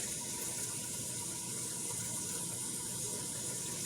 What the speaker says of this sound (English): I'm not going to do too much water, about half of a pot.